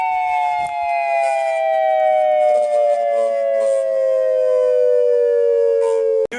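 An electronic siren winds slowly downward in one long, loud, steady wail with bright overtones, cutting off abruptly at the end.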